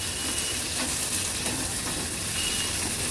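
Finely chopped medium onion sautéing in oil with a bay leaf, giving a dense, even, loud sizzle and hiss that runs without a break, with soft stirring underneath and no voices.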